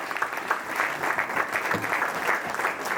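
Sustained applause from a gathered audience at a 50th birthday celebration during tributes, steady dense clapping for about three seconds without a break.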